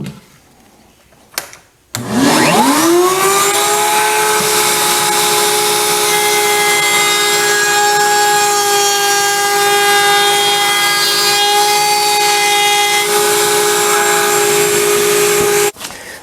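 A router spins up and then cuts steadily around a cutout in oak, a loud sustained whine with a strong tonal hum that holds evenly for about fourteen seconds before stopping.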